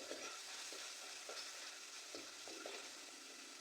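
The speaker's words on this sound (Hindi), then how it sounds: "इन मसालों की अच्छे से भुनाई करेंगे।" Whole spices (cumin, coarse coriander, salt and a chicken stock cube) roast in a pan for matar pulao, a soft steady sizzle with the occasional scrape of a spoon stirring, quiet and with no voices.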